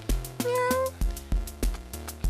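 A kitten meows a few times, short mewing calls close by over a steady background of soft music-like tones.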